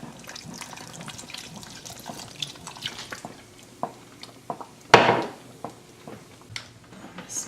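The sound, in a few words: cider being poured into soup pot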